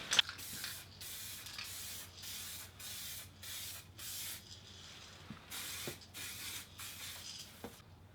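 Duracoat aerosol spray paint applied as a second coat to a Mosin Nagant rifle, about a dozen short hissing bursts in a regular on-off rhythm, close and fairly quiet.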